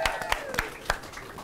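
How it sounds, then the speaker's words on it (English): A handful of scattered handclaps from a studio audience at a New Year college music gig, sparse and fairly quiet, with faint tonal sound beneath. "Please give another huge round of applause to Phoebe, Harry, Tyler, Mimi, and Dennis."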